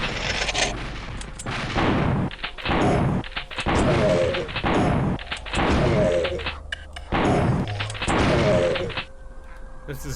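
Zombies fire shotguns in the 3DO first-person shooter Killing Time, a loud series of booming blasts in an irregular rhythm, each followed by a brief reverberant tail, with clanking game effects between shots.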